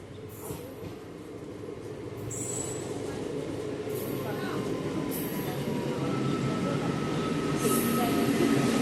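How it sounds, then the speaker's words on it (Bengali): A train pulls into a quiet station platform, its low rumble steadily building in loudness and joined by faint wheel squeal and brief higher-pitched hisses, with no voices heard over the noise. "একটা ট্রেন ঢুকছে।"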